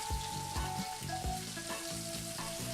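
Sable fish searing in a hot pan, a steady close sizzle and crackle of fat running throughout with a few soft knocks of the pan underneath, no voices.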